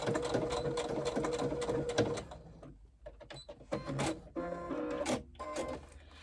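A sewing machine stitches pleats in bursts, its rapid mechanical whirring close and loud, with brief pauses and restarts between runs of stitching.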